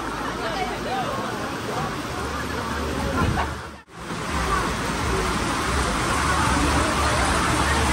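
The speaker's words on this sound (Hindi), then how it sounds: "अब बहुत जोर की बारिश आई है, यहाँ तक पानी आ रहा है और तिरछी बारिश है" Heavy, slanting rain pours steadily in a dense broadband hiss, with a brief dip partway through, while voices murmur faintly underneath.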